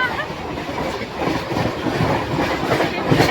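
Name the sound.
passing train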